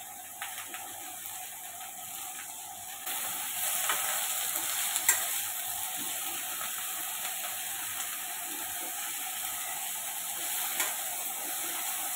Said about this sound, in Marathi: आता हे थोडंसं तेल टाकून आपल्याला कढईमध्ये अद्रक, लसूण आणि कांदा एकत्र आपल्याला रोस्ट करून घ्यायचं आहे